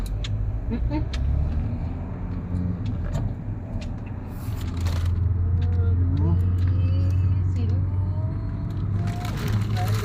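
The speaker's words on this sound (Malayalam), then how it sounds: "ആ ലോറി കയറി വരുന്നുണ്ട്." A lorry approaches on a night road through Bandipur toward Bangalore, its heavy engine rumble swelling midway under a car's steady road drone, with people talking inside the car.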